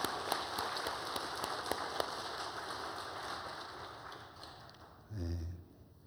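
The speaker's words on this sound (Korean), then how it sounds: "우리 박수로 한번 격려해 주시기 바랍니다" A church congregation claps during a Korean worship service, a steady, fairly faint patter of hands with a few sharper claps, fading toward the end before a short low thump.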